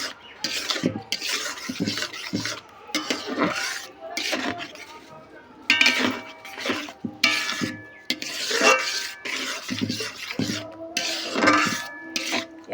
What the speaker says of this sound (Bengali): এইভাবে নাড়তে থাকবো বারবার